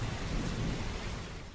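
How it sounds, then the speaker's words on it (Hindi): Thunder rumbles low and heavy under steady rain in a short, dense burst of storm noise, with no voices. "बिजली गरजने की आवाज आती क्यों है?"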